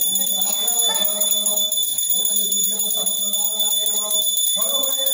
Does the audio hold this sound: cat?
no